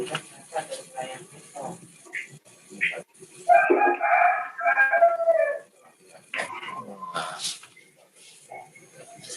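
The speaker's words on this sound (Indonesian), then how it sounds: "apa ya yang ayamnya kukuruyuk ya?" A rooster crows in the background of an online class in Indonesia, with a drawn-out call rising over people talking near the mic, which continues around it.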